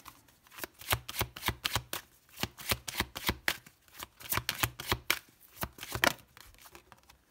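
Tarot cards being shuffled in a steady run of crisp riffling flicks and slaps, close and clear, with no talk over them.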